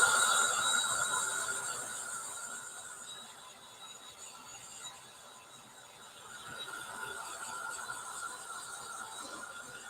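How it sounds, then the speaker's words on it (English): Embossing heat tool blowing hot air to dry ink on a t-shirt, a steady close whirring hiss that dips slightly midway and then rises again. "So I have my embossing tool, which gives off hot heat."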